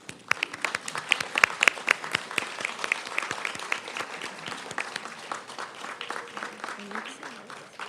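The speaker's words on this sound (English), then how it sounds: "Graduates, please stand and join me in a round of applause for your family and friends." A crowd at a nursing school pinning ceremony applauding steadily, many hands clapping at once in a dense, sustained round that holds for several seconds before thinning slightly.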